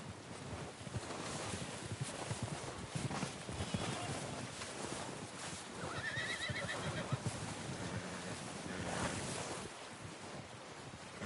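A horse whinnies in the video game Red Dead Redemption 2 amid a dense wash of outdoor noise, with hooves clopping steadily underneath and no voices.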